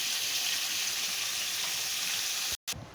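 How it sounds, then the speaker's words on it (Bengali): Potatoes fry in a pan with salt, giving a steady, close hiss of sizzling oil that drops out briefly before resuming. "দিয়ে দেব পরিমাণ মতো লবণটা দিয়ে আলুটা আমি ভালো করে ভেজে নেব"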